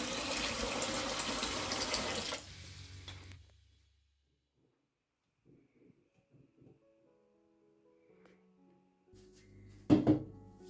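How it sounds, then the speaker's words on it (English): Water runs hard from a tap for a couple of seconds and then stops, followed by quiet clinks and a sudden thunk as a pan of cooked pork knuckle meets cold water. "Put the pan in cold water."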